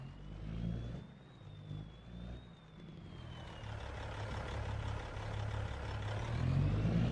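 A Peterbilt semi truck in the Farming Simulator 25 game starts up and settles into a steady, loud diesel idle that builds slightly toward the end, with a faint whine running above it.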